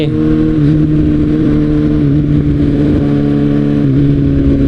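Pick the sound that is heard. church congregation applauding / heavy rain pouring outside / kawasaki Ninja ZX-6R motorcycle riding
kawasaki Ninja ZX-6R motorcycle riding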